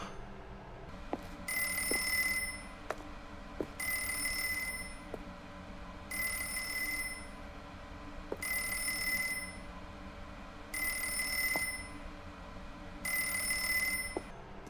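A telephone in The Stanley Parable rings in steady repeated bursts, six bright electronic rings evenly spaced with short pauses between, clear and close over a low steady hum, with occasional soft clicks.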